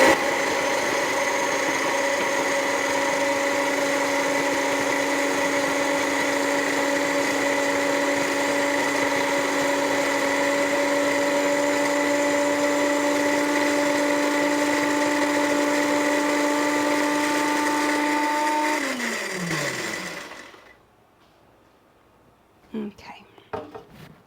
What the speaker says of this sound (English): This isn't a very big food processor